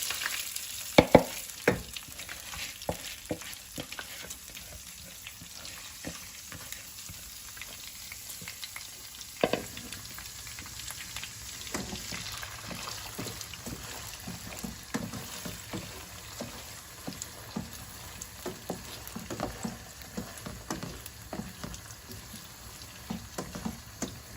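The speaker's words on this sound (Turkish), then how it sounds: "Ben böyle 4-5 dakika pirincimi kavuracağım" Soaked rice roasts in a pan for chicken pilaf, a continuous crackling fry broken by frequent scraping stirs and clacks of a spoon against the pan, close and busy throughout.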